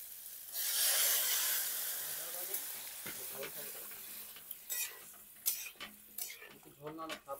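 Spiced vegetables with potatoes and stems fry in a pan, with a loud hiss as water goes in, followed by softer sizzling and scattered stirring scrapes and clinks close by.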